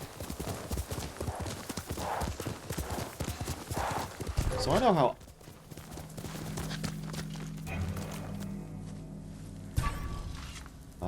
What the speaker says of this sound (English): we're on our third horse now